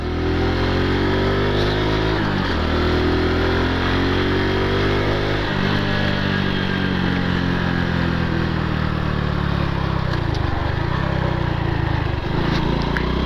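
A Honda Pop 110 motorcycle engine revs up loudly and steadily while riding, with the pitch climbing and then dropping at each gear shift, about four shifts in sequence.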